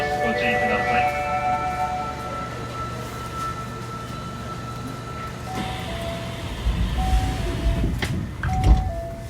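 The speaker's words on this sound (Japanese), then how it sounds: "扉が閉まります。ご注意ください。" Doors on an Osaka Metro Sakaisuji Line 1300 series train close after a warning chime, with a hiss and a low rumbling thud near the end, over the steady hum of the car and a recorded announcement.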